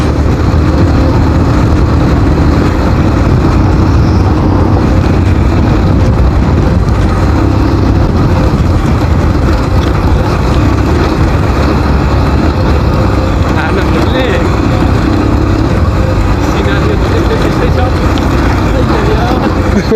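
A motorbike engine roars loud and continuous while riding fast along an off-road route in Dolakha toward Bhorle waterfall, with wind rush mixed in and voices talking over the drone.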